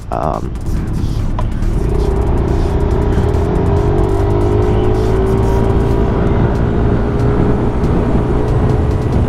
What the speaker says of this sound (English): when you pull on the full throttle, you can really feel that the force is actually pulling you back